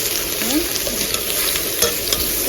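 Vegetables, mashed fish paste and potato fry lightly in a pan, a steady close sizzle with scraping stirring strokes throughout and no talk.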